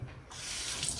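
A kitchen tap runs onto a dropped piece of food being rinsed, a brief soft hiss and splash of water, fairly quiet and close.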